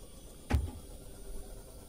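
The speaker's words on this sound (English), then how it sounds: "That is the sound of a fish hitting the side of your boat." A single dull clunk, brief and fairly soft, of a fish hitting the side of a boat in the video game Subnautica, then only low background hum.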